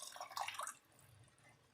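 Dissolved tamarind water poured into garlic kulambu: a short soft splash and trickle that fades after under a second into quiet.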